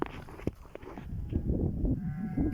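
Sheep bleat in a farm pasture, several short overlapping calls close by, fairly quiet against soft background noise.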